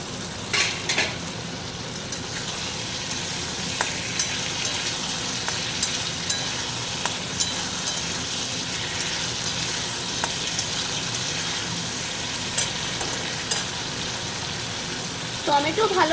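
Tomatoes being mashed and fried in a wok, a loud continuous sizzle with regular scraping and stirring strokes of a utensil against the pan throughout.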